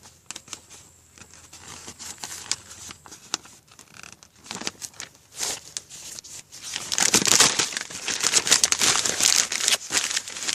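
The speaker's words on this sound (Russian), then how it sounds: "От бумаги тоже большой шум." Paper crumpled and crinkled by hand to feed a small campfire, dry rustling crackles close up, sparse at first and then growing dense and loud in the last few seconds, with no voices.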